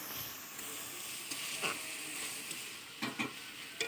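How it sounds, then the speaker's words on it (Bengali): Spice paste for a fish curry with drumsticks sizzles in a pan as it is sautéed with a splash of water, a constant hiss with a few spoon-stirring scrapes, close and fairly quiet. "সামান্য একটু জল দিয়ে দিলাম, জলটা দিয়ে কষাচ্ছি কেন, মশলাটা যদি পুড়ে যায় সেই জন্য জলটা দিয়ে কষাচ্ছি"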